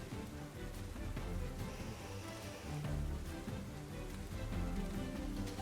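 Continuous rainfall from a rain move in the video game Pokémon Scarlet hisses loudly and evenly under game music, with no pause from start to finish.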